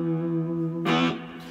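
A three-string cigar box guitar run through a rotary vibe sweeps in a swirling chord, with a brighter, harsher strum flaring briefly in the middle before fading, played close and fairly loud with no talking.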